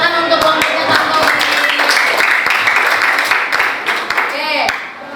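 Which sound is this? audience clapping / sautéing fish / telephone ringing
audience clapping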